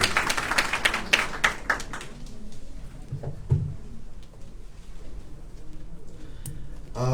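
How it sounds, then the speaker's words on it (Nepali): A burst of clapping from an audience at a committee formation meeting in Sendai, Japan, dense and lively at first, then thinning out into scattered claps and quieter room noise. "कृपया जोरदार ताली बजाएर स्वागत गर्नुहोस्।"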